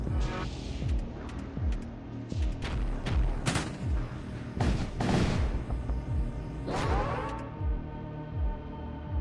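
Artillery barrage in the sci-fi video game Void War: a dense run of repeated booming impacts and bursts rolls through the whole stretch, loud and close, with a sustained game soundscape underneath and no talking.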